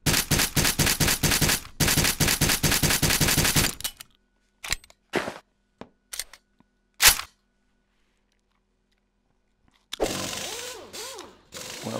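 SOCOM pistol fire from the Metal Gear Solid gun in the Gun Club VR game: a loud, rapid string of shots for about four seconds, then several scattered single bangs and mechanical clicks, and a final burst of dense noise at the end.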